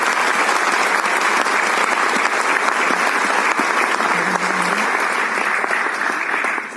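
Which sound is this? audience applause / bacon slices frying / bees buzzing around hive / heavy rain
audience applause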